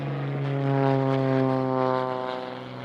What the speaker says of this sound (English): Got a nice plane flying over.